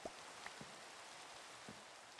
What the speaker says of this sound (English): it's fucking raining in the game